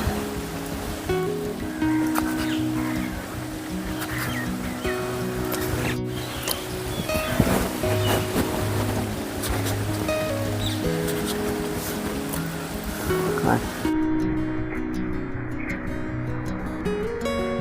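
Brinjal bajji sizzle steadily in hot oil, a continuous crackling hiss running beneath prominent background music throughout.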